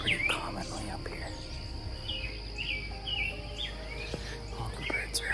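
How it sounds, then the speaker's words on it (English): Birds sing during a sunrise hike, with repeated clear chirps and short whistled phrases, some near and some farther off, over soft rustling and faint insect buzz. A voice whispers quietly. "All the birds are out singing."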